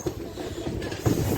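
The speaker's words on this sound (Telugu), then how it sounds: "1407 కిలోమీటర్స్ డిస్టెన్స్ కంప్లీట్ చేసి ఈ ట్రైన్ చేరుకుంది మిర్యాలగూడ" The Sabari Express, running from Thiruvananthapuram Central to Secunderabad, pulls into Miryalaguda station with a steady low rumble and rolling rattle of coaches, punctuated by brief clanks, heard close and continuous.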